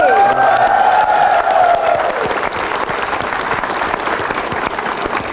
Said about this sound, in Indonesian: mari kita beri tepuk tangan paling meriah untuk guru bangsa kita, Habudi.